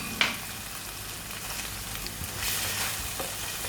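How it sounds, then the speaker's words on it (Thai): Pork stir-fried with curry paste in a pan, a soft, continuous sizzle broken by a sharp scrape near the start and further stirring scrapes later, all fairly close and quiet, with no talking. "พัดเครื่องแกง"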